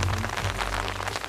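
Rain falling on a rainy day, a steady soft hiss of drops on surfaces with a low rumble underneath, continuous and fairly faint with no voices.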